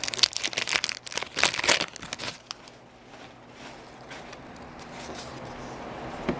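Crinkling and tearing of wax-paper wrappers as vintage 1980s–90s baseball card packs are opened, loud and close for about two seconds, then fading to quiet rustling and faint shuffling.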